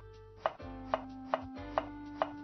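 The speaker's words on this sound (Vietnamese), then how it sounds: "Khoai tím trước hết là anh Huy cắt hạt lựu nha." A knife dices purple sweet potato on a cutting board in five sharp, evenly spaced chops, close and clear over a low background hum.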